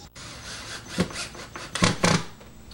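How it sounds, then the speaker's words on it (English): Screwing wooden legs onto an upholstered ottoman gives a few short rubbing, grinding twists of wood on wood, close and moderately loud, in brief bursts with pauses between. "if you can just carefully put on these legs, meaning screwing them down in there"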